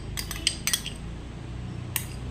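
A spoon stirs milk into a yogurt mixture, tapping and clinking against the bowl in a quick cluster of strikes and then one more near the end, over a low background hum.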